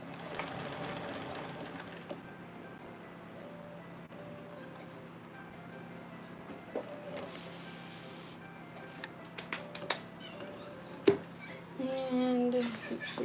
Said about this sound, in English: now I can back stitch